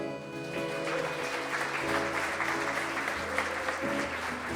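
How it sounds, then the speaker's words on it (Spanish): A church congregation at a worship service applauds steadily under sustained music, and the dense clapping holds at an even level throughout. "Denle un fuerte aplauso."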